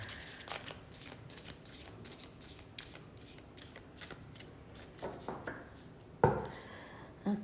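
A deck of playing cards being shuffled: repeated riffling and flicking bursts close to the listener, with a sharper louder riffle near the end, and no talking.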